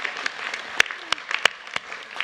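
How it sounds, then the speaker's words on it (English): Applause at a university science faculty graduation ceremony, a thin scattering of separate, sharp claps in a large hall rather than a dense roar, moderately loud throughout. "more clapping."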